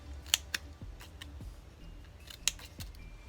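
Scissors snipping the tails of small fabric flags made from craft scraps, several crisp close cuts spaced irregularly with light clicks of the blades between, quiet room around them.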